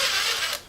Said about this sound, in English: Screw it back in.